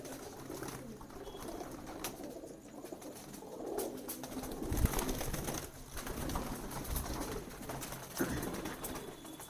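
Kalpare kallume pigeons cooing on a rooftop, soft and fairly distant, with low coos and faint bird calls over a steady wash of outdoor background noise.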